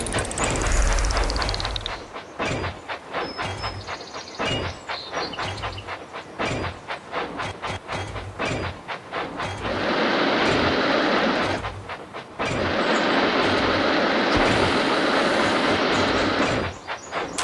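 A toy-style engine chugs along the rails in the Thomas & Friends Minis game, with steady clickety-clack rhythm, hissing bursts and a loud continuous rumble that swells in long stretches near the end.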